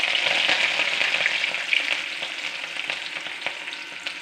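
Onions and curry leaves frying in hot oil for a jackfruit erissery, a steady close sizzle with crackling pops and faint stirring, no voices.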